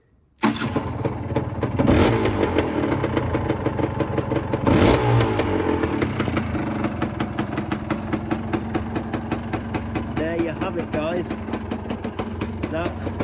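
A motorcycle engine starts abruptly and settles into a loud, close, lumpy idle, with sharp revs near the two- and five-second marks and a person talking over it.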